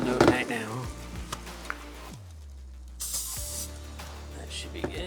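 Short hissing bursts of aerosol cooking oil sprayed on chicken wings for an air fryer, a few quick pumps and one longer spray, with kitchen clatter around them.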